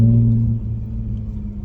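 Low droning exhaust of a 2016 Ford Mustang V6 (S550) with a muffler delete, heard from inside the cabin as a steady deep rumble that starts louder and eases slightly, with no talk.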